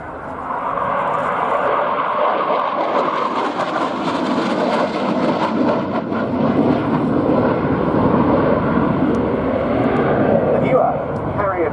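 Spanish Navy EAV-8B+ Harrier II jet flying in at an air day at RNAS Yeovilton, a loud sustained roaring jet engine that builds and holds across the whole stretch, with a commentator's voice over it.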